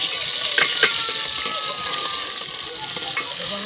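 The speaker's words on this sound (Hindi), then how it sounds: "मुझे लगता है भैया तुम्हारा घी गर्म हो गया है, आवाज़ दे रहा है।" Hot ghee sizzles and crackles in a pan on a home stove, a bright, steady hiss with a few sharper pops, heard close with a voice talking faintly in the background.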